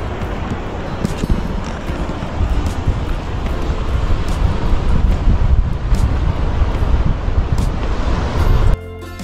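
Wind and ocean surf on a sandy beach beside a mangrove forest at Bakkhali, a loud, constant rumbling wash with heavy wind buffeting on the microphone throughout.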